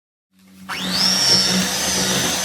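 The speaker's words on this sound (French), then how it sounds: "دلوقتي احنا حطينا الزبده مع السكر وضربناهم كويس جدا" An electric mixer beating butter and sugar starts from silence and spins up to a steady, loud, high-pitched whir that holds close and constant until the end.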